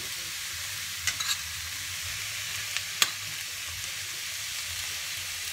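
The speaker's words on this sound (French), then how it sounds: "on peut intégrer directement la mixture tomate avec l'oignon" Tomato and onion mixture frying in a pan, a steady soft sizzle with a few sharp spoon-against-pan clicks as it is stirred.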